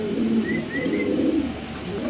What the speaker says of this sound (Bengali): আমরা ইনশাআল্লাহ আরেক জোড়া কবুতর দেখাচ্ছি আপনাদের